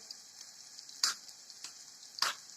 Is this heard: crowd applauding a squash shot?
no